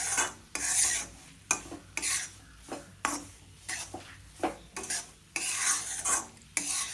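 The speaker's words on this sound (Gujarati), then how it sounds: "જાડા લોટને આપણે શેકીશું" A spoon scrapes and stirs repeatedly against a pan in quick rhythmic strokes, with soft sizzling in between, as coarse flour roasts over medium-low flame.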